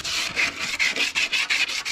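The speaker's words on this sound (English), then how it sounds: "That's pretty good scuffing." A metal trailer fender, part of a Model A fender upgrade, scuffed by hand before primer: about eight steady back-and-forth abrasive rubbing strokes, close and fairly loud, with no talking.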